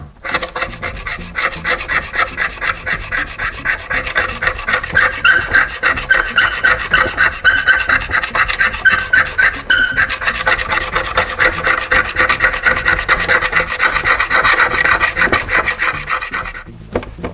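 A hand scraper and sandpaper strip solid old paint from reclaimed red oak, making steady, rhythmic rasping strokes that run loud and close for the full stretch, with no voices.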